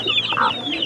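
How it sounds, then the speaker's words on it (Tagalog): Chicks cheeping, a cluster of high, thin chirps overlapping in a quick, continuous chatter, close and clear. "Ito mga sisiw to."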